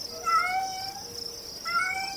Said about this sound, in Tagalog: Tay, sa inyo ho ba itong itim na pusa?